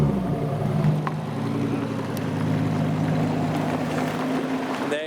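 Lamborghini Huracan and Aventador S supercars roll past at a car show with a throbbing low engine drone and burbling exhaust, swelling briefly, with wind noise over the microphone.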